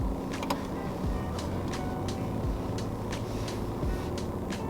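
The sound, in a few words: car backing out of the garage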